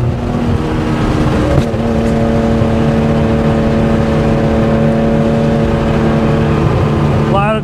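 A 1972 Porsche 911 T with a 2.8-litre fuel-injected engine revs hard toward redline, a loud, sustained rising engine note with steady harmonics and a brief gear change midway, heard from inside the car.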